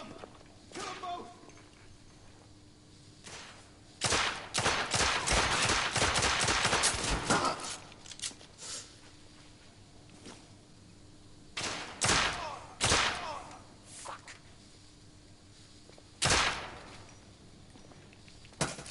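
Gunfire in the video game The Order: 1886, with a dense burst of rapid shots followed by scattered single loud reports, and voices talking in between.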